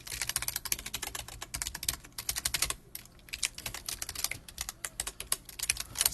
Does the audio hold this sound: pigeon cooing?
no